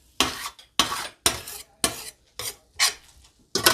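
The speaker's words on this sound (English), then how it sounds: "Just scrape all that goodness off the bottom" A spoon scraping cooked tomatoes off the bottom of a pan while making ackee and vegetables, about seven distinct rasping strokes in a steady rhythm, close and clear with no talk.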